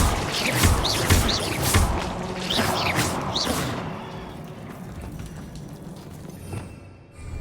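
Bombarda blasting spells in the video game Hogwarts Legacy, several loud crashing impacts with whooshes in quick succession, then a quieter rumbling tail with faint chirps.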